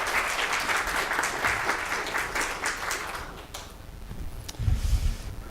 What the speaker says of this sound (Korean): 우리 박수로 뜨겁게 환영하시겠습니다